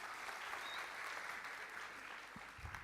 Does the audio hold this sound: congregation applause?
yes